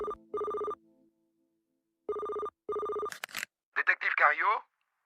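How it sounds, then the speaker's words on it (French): An old-style telephone bell rings in two pairs of short, loud bursts separated by a pause, then a voice begins talking. "le téléphone se met à sonner"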